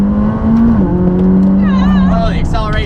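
A McLaren 600LT accelerates with a loud, steady engine drone that shifts pitch as it pulls, and a voice starts talking over it toward the end.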